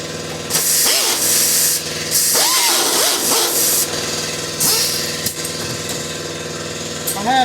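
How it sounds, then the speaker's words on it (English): Two air compressors run together while air-sanding the bed of a 1980 Jeep CJ7, making a steady loud hiss and whine with bursts of spraying air and sanding noise, and a voice talks over it. "I have to hook up 2 air compressors just to get most of this sanded off"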